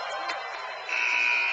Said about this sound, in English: Wesley Dunning at the buzzer.